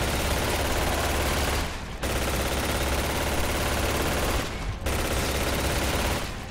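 Gears of War gunfire pours out as loud, continuous automatic bursts, three long volleys split by two short pauses, with no talking.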